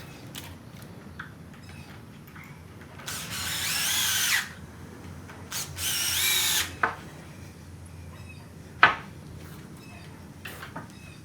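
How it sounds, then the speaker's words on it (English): A power drill drives screws into pre-drilled holes in boards for a farmhouse table, two short loud bursts of whirring, followed by quieter clicks and a sharp knock of handling. "I'm going to feed these screws into my pre-drilled holes and then screw them all together."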